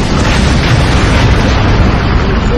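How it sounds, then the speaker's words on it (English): A missile strike explodes in the Modern Combat 4 Zero Hour video game as a loud, sustained, booming rumble that fills the whole stretch with no pauses. "Heads up! Missile strike!"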